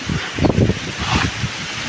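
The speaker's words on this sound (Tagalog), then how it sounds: "Ang lakas ng hangin dito." Gusty wind buffets the microphone in rough, uneven surges, with a faint rustle behind it and no voices.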